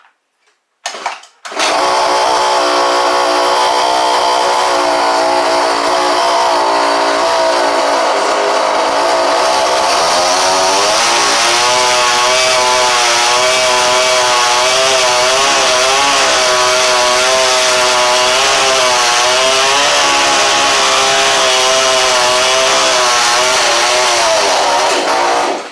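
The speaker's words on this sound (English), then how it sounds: "Let's see if we can fire it up." A 49cc dirt bike engine with a rigged carburetor setup and a broken fuel tank fires up after a brief pull and keeps running, a loud, buzzing, steady idle with slight revving, close by and without talk.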